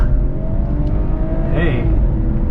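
A 2017 BMW 540i accelerating, heard from inside the cabin: a steady low engine drone with a brief rising whir partway through, close and continuous, with a voice over it.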